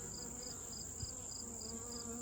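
Honeybees swarming around a beehive while a small colony is robbed out by a larger one, a steady close buzzing hum with a faint regular high chirp running through it.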